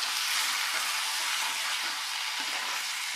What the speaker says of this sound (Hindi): मटन को हम अच्छे से एक बार प्याज और अदरक लहसुन में मिक्स कर लेंगे।